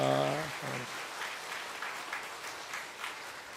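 Steady crowd applause fills a church service as new members are welcomed, starting loud and holding as a dense, even patter; a brief voice is heard at the very start.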